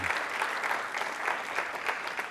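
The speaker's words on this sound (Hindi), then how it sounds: "इस जानकारी के लिए भी तालियां जोरों से बजाइए" Steady applause from a university quiz-show audience on a Holi theme, dense and even throughout without talk.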